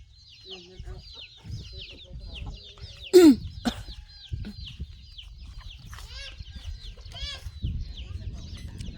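Chickens cluck and chatter faintly on a farm in the early morning, with a sharp knock near the start and soft voices in the background.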